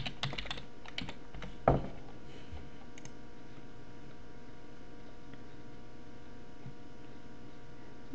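Fast typing on a computer keyboard, a quick burst of close clicking keystrokes with one louder tap, then the keys fall quiet under a steady low room hum.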